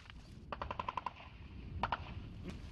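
Short bursts of machine gun fire at front-line positions near occupied Yasynuvata in rainy weather, two rapid strings of shots about a second apart, heard at a distance and moderately faint.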